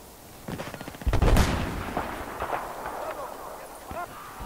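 Gunfire in the Battlefield 4 video game, rapid shots rattling in a burst followed by a heavy blast, then scattered shots and rumble continuing underneath someone talking.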